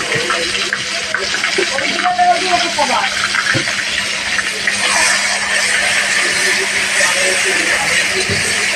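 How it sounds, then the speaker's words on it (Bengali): Onions frying in a pan until brown, a steady close sizzle that runs throughout at an even level. "এবার পেঁয়াজটা বাদামি কালার করে ভেজে নেবো।"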